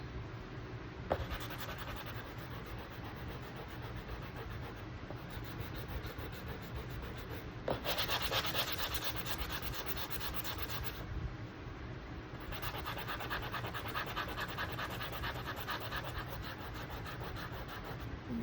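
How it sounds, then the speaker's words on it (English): Hand sanding of paint off a wooden pallet being prepped for a lighter color. It makes a continuous steady scratchy rubbing, close and fairly loud, with strokes and brief shifts in pressure, and no talk. "Let's see if I can sand it off a little bit."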